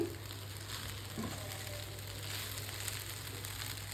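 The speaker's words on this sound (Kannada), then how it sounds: "ಇಷ್ಟು ಹಾಕ್ಕೊಂಡ್ಮೇಲೆ ಐ ಫ್ಲೇಮಲ್ಲಿ ಇಟ್ಕೊಂಡು ಚೆನ್ನಾಗಿ ಮಿಕ್ಸ್ ಮಾಡ್ಕೊಂಬಿಡಿ" Spiced paneer fried rice with chicken masala and garam masala is stirred in a pan over a high flame, giving a steady close sizzle with faint scraping throughout and no talk.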